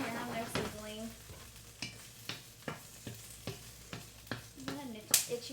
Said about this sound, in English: So the peppers, you can hear them, they're sizzling.